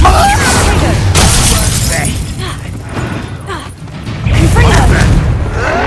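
Confringo fire spell blasts in Hogwarts Legacy, loud crashing bursts with shattering debris amid a busy game fight, swelling again near the end; voices call out over the din.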